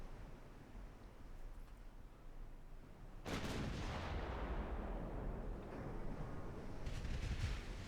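Naval battleship gunfire in the warship game Ultimate Admiral Dreadnoughts: a sudden heavy boom erupts partway through over a low rumbling backdrop, followed by sustained roaring and crackling, with no voices.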